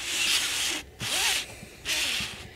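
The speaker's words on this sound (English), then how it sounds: "if you hear, like, this noise in the background, it's probably my dad unpacking stuff" Rustling and scraping of someone unpacking things nearby comes in three long bursts with brief pauses between, a close, dry rubbing sound heard without talk.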